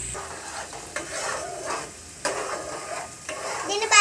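Green chilies and onions fry in a pan, stirred with a spoon that scrapes in bursts over a steady close sizzle, with no one speaking.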